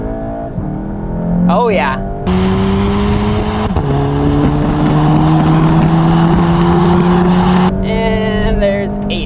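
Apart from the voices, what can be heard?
VW MK7 GTI with Invidia Q300 exhaust accelerating at wide open throttle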